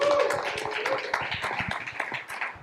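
Applause at a venture capital panel event as two speakers from New York Life are welcomed, a small crowd's scattered clapping with distinct individual claps, fairly close and tapering off.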